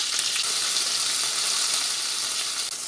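Pork pieces browning over medium heat in a frying pan give off a steady, close, loud sizzle that stays even throughout with no talk.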